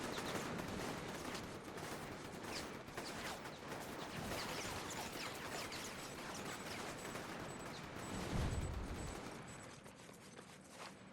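Sustained gunfire from the superhero video game Infamous, a dense rattling fusillade of shots that runs continuously, with a heavier thump near the end, all fairly quiet and distant-sounding.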